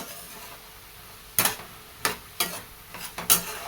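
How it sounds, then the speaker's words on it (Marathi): Green amaranth greens being stirred with crushed peanut powder in a pan, giving a few distinct scraping strokes spaced about half a second apart over a faint background. "थोडंसं शेंगदाण्याचं कूट टाकून मी फिरवून घेते भाजी"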